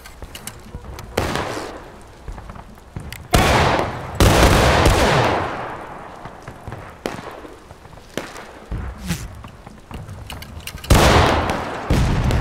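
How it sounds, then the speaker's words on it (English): Musket volleys ring out from lines of soldiers in the Civil War video game War of Rights, with loud, sharp cracking bursts and ragged fusillades. Quieter scattered shots and rumbling echoes fall between the bursts. "Hey, NCO, take the next volley"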